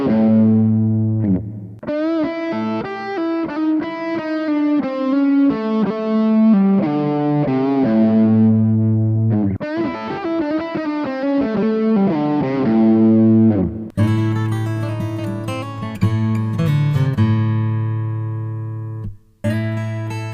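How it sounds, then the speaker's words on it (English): Acoustic guitar playing a blues lick with hybrid picking, pick and fingers together, in clear plucked phrases with bent and sustained notes, loud and close with no talking. "on the acoustic, this is going to use both pick and fingers in a style that's typically referred to as hybrid"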